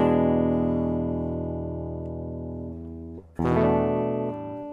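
Guitar strums an E seventh add ninth chord that rings and slowly decays, then the chord is struck again with a bright attack near the end.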